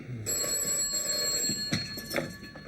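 An old-fashioned telephone bell rings steadily and continuously in a 1940s Home Guard office setting from a British sitcom, fairly close, with a few soft knocks and shuffles underneath and no talk.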